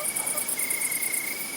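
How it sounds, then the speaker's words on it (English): Crickets chirp steadily at sunset, a continuous pulsing trill close by and fairly loud, with no other sound over it. "the crickets begin to sing."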